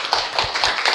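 A group of people in a PHP programming class claps briefly for a friend, with a few scattered, close claps and taps over about a second.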